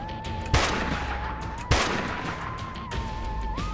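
Sniper gunfire in the post-apocalyptic video game Dustland Delivery: two sharp, loud shots about a second apart, with smaller pops after, over a steady hum and a sustained tone.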